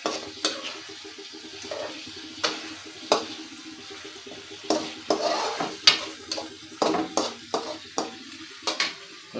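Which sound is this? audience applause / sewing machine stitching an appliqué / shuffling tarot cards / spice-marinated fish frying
spice-marinated fish frying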